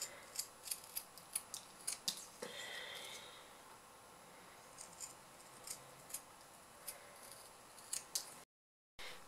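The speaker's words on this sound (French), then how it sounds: "je prends mes ciseaux cranteurs et je vais cranter tout le tour" Pinking shears snip notches around a sewn fabric coin purse in a series of quick, crisp cuts, faint and close, with short pauses between clusters of snips.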